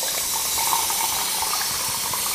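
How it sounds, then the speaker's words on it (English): Tap water pours steadily into a cup holding fresh orange juice, a loud, close, continuous rushing stream with no talking. "I'm going to add to that water to equal a cup."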